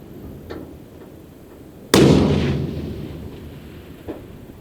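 A rifle shot fired at a long-range target 770 out, outdoors in a breeze: one loud, sharp report after quiet wind noise, followed by a decaying rumble and a faint distant impact crack a couple of seconds later.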